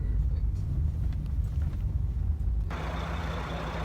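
A Greyhound bus pulls into a bus station, its low diesel rumble loud and close, then a sudden hiss of air brakes cuts in near the end and holds to the finish.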